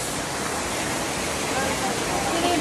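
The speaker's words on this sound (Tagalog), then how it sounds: "So guys, ito na yung falls." A waterfall at Sitio Latag roars as a steady, dense wash of broadband noise, unbroken and close throughout.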